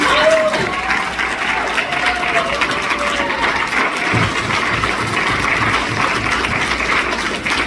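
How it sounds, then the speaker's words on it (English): Audience applause at a cosplay contest, a sustained round of clapping from a crowd filling the whole stretch, with a faint hum underneath and no speech. "Big round of applause for our craftsperson."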